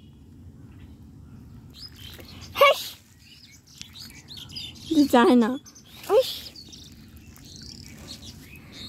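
Birds calling from a tree beside a canal in the countryside, a few short chirps and one rapid trilling call over a quiet background, heard alongside a person talking.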